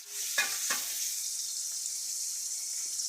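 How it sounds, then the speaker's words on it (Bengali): Pieces of rohu fish land in hot oil with a couple of soft splashes, followed by a steady, quiet, hissing sizzle. "গরম তেলে মাছগুলো আমি ছেড়ে দিলাম"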